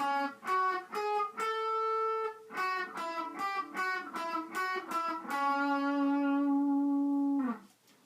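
An electric guitar with distortion plays a short single-note melody of a battle theme from Pokemon Omega Ruby/Alpha Sapphire, clear close notes ending on a long sustained tone that cuts off.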